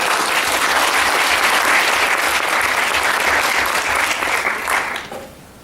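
An audience claps to welcome Professor Robert Brym at a talk, a dense, loud burst of applause from a full room that holds steady and then fades out near the end.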